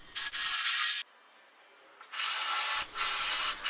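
A handheld power drill bores a starter hole in a tool cabinet workstation, whirring in two close, loud bursts with a short quiet gap between them.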